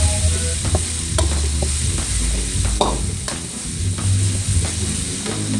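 Spice paste with lime leaves frying in a pan for a spicy long bean stir-fry, steady sizzle broken by repeated scraping strokes of a spatula stirring, close and unaccompanied by speech.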